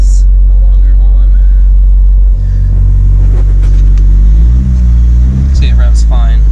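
A Nissan Pulsar engine idles with a loud, close low rumble, then revs up several times in short rising bursts, with a voice speaking faintly at the start.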